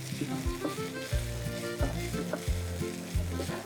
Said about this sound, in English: And now just mix it well.